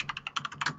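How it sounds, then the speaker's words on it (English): Quick, light keystrokes rattle on a computer keyboard, about a dozen close taps in an uneven burst, with no voices. "And that's me typing"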